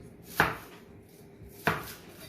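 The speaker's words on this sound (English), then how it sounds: "we're going to start by preparing some onions" A knife chopping onions on a board, two sharp single thuds about a second apart, close and with no voices.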